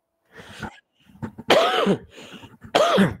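Several close coughs and throat-clearing bursts come one after another, with two strong, harsh coughs standing out between softer hacks and short pauses.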